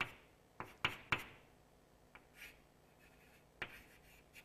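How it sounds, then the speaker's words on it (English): A lecturer drawing a graph on a board, with sharp marker or chalk strokes and taps in an irregular sequence and gaps of quiet between, in a hushed lecture room. "Let's draw a little graph."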